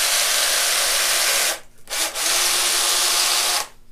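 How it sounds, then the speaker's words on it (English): A power drill and slightly oversized bit reaming out the hole in a DIY conservation cull clip, a steady whirring grind that stops briefly, gives a short burst, then runs on again before cutting off. "So just take your drill with a drill bit."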